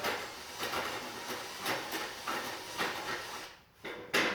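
A router bit cutting wood while shaping a wine holder, a steady close hissing whine rising and falling in passes, with a brief dip and pause near the end.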